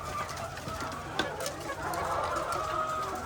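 Scattered clucking from several chickens over a steady outdoor background hum, fairly faint and continuous, with no talking.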